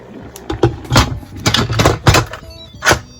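An Instant Pot lid is set and twisted shut, several hollow plastic thunks and clicks in an irregular series, close by and fairly loud.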